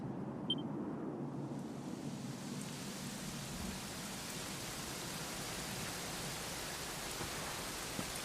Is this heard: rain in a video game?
yes